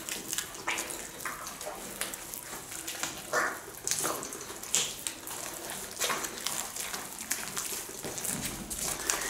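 Water pouring and splashing into a bowl while mixing bread dough for yacá bread, a continuous trickling, sloshing sound close by with no talk.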